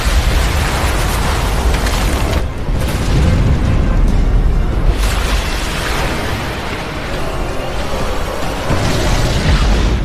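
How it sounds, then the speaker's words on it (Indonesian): A loud, rumbling explosion with a deep booming roar that rolls on and on, dense and continuous, briefly easing before surging again. "tiba-tiba terjadi ledakan dahsyat yang membuat seisi pulau mengalami guncangan"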